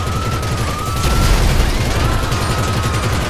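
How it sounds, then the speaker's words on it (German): A minigun in GTA Online fires a continuous rapid burst, loud and dense throughout, with a faint siren-like whine in the background. "probiere ich jetzt nochmal die Minigun hier ein bisschen aus"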